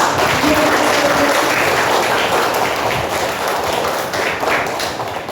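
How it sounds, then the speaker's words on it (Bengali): Schoolchildren applaud their headmaster at a children's theatre workshop, a loud dense burst of clapping that fills the room continuously and fades slightly toward the end. "তার জন্যে প্রথমেই তোমাদের প্রধান শিক্ষকের জন্য জোরে একটা হাততালি দাও।"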